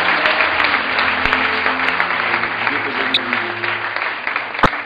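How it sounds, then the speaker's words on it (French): A church congregation applauding together to welcome a brother to the front, dense steady clapping from a crowd in a hall, with voices mixed in. "On acclame le Seigneur pour recevoir le frère Samuel"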